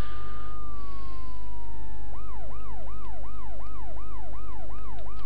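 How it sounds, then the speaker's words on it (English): Wailing police car siren from the PS1 video game World's Scariest Police Chases: a falling tone gives way to a steady, fast rising-and-falling yelp cycling repeatedly, loud and up close over low rumbling game engine noise. "So if you turn the siren off"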